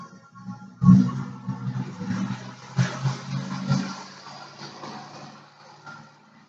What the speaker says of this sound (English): got a neighbor who has a very loud vehicle